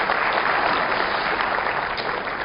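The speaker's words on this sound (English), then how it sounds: "let's give a quick round of applause" Audience applause following a keynote address at a topsoil summit, a dense steady round of clapping filling the whole stretch at even loudness, fairly close and with no voices over it.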